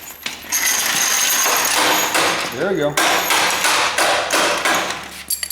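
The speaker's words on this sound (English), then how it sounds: "Keep my brass hammer so I don't mess up my thread." Repeated sharp metallic blows from a brass hammer striking a part of a Split-window car chassis during dismantling, loud and close, in quick irregular bursts, with a short spoken remark near the end.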